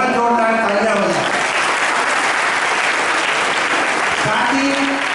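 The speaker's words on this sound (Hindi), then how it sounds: "उनके लिए बहुत जोरदार तालियां हो जाए।" Loud, sustained applause from a crowd fills a school ceremony where bicycles are handed out to girls, with clapping steady throughout and a voice speaking briefly over it at the start and again near the end.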